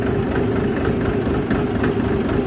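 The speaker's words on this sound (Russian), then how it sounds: "Вот завел двигатель, чтобы разогнать масло по системе." A Shifeng 244c tractor's diesel engine idles steadily at close range, a deep, even low rumble with a slight knock that holds unchanged throughout, with no voices.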